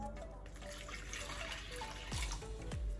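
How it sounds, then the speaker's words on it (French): Water pours into a bowl of sugar for a soft pan-cooked bread dough, a steady close trickle with rising gurgles and a couple of splashy drops near the end. "Après on va mettre d'abord un peu d'eau"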